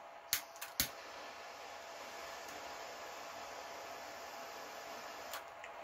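A steady, fairly loud torch roar plays alone as a flame heats Loctite-secured motor bolts on an Arrma Kraton 8S RC car, with a few sharp metallic clicks near the start.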